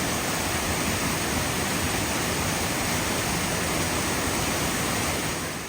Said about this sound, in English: right through here is the big cascade.